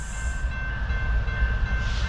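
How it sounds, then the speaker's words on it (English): An eastbound Norfolk Southern 22X freight train rolls slowly past a grade crossing in Edison, New Jersey, a steady loud rumble of wheels and engines with a faint high tone riding above it. "we got an eastbound first train of the day. Norfolk Southern 22X."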